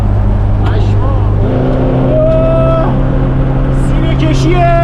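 An old car's engine droning loudly from inside while driving, shifting in pitch as it labors and revs, with people talking over the steady motor noise.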